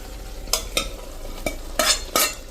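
Part-cooked cauliflower tipped into a pan of masala and stirred, a series of sharp scraping and clattering strokes over a soft background sizzle, loud and close.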